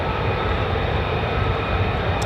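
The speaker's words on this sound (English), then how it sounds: "It is a stealth 5th generation fighter" F-35 stealth fifth-generation fighter jet flying at RAF Lakenheath, a loud, dense, steady engine roar with broad rumble holding constant from start to finish, no voices.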